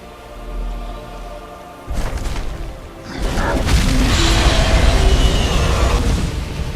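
A dragon's booming Thu'um shout in Skyrim, a deep roaring blast that swells after a quieter opening and rumbles loudly for several seconds, with no talk over it.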